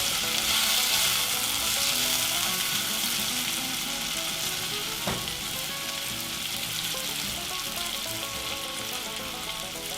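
Butter fries with zucchini and mixed vegetables in a pan, a strong continuous sizzle with stirring scrapes and one sharp clatter near the middle, heard close up with no talking.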